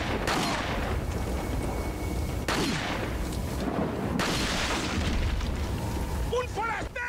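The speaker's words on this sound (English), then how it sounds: "Time for a well-placed hand grenade." Deep booming blasts from a hand grenade in Resident Evil 4, a couple of heavy bursts rumbling amid ongoing game noise, with brief squeaky sounds near the end and talk mixed in.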